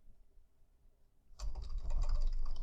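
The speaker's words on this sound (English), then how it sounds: "So let me start typing storage" Typing on a computer keyboard begins abruptly after a near-silent moment, a quick run of close, clicky keystrokes continuing to the end.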